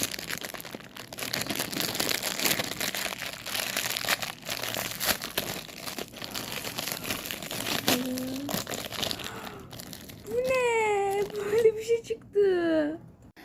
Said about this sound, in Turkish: Neyse şimdi yırtıyorum.